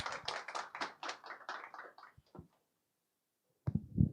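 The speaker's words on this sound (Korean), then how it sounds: "큰 박수 부탁드리겠습니다." Audience clapping to welcome an author at a talk event, a close burst of hand claps that fades out into silence, then a few more claps return near the end.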